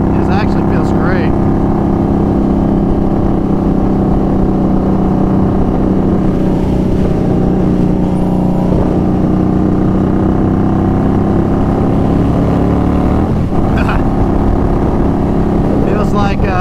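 A 2019 custom Indian Scout Bobber motorcycle cruises on a highway, its steady engine drone and heavy wind rush loud and continuous throughout, with a brief swell near the end.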